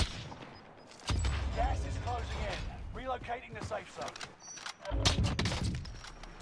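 Sniper rifle fire in Warzone from a buffed LW3 Tundra: sharp gunshot cracks and rattling bursts over a loud, busy game mix, with someone talking throughout.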